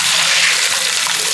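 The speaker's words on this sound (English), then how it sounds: "We're gonna rinse them really good so that they're nice and clean." Dried beans being rinsed under running water, a steady loud gush and splash close by with no talking.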